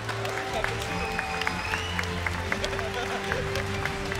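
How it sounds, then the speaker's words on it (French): Audience applause for the second-place Team BIG at a CS:GO esports grand final at Paris Games Week, steady clapping from a large crowd with a continuous hum underneath and scattered crowd noise. "merci d'applaudir, s'il vous plaît,"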